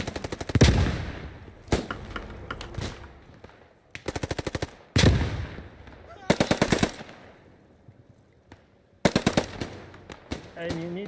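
STG44 assault rifle firing in Post Scriptum, a World War II shooter: four loud, close bursts of rapid automatic fire, each a tight rattle of shots separated by short pauses, with faint voices between.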